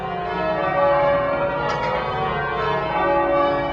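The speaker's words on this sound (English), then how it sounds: "Trinity now has the only set of 12 tower bells hung for change ringing in the United States" Tower bells of Trinity Church, a ring of twelve hung for change ringing, sound in a dense, continuous wash of overlapping tolls, loud and steady throughout with no voices.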